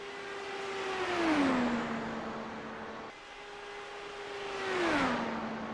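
A race car engine in a racing video game revs up and then drops in pitch as it passes, heard twice in a row, with a steady mechanical whir between the passes and no talking.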